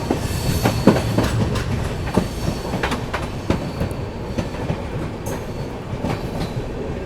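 Vibhuti Express passenger train runs on rails between Sitarampur and Madhupur junctions in India, heard from on board with continuous rumble, rhythmic clickety-clack and occasional metallic knocks.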